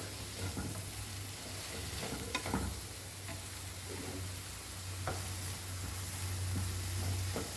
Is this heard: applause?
no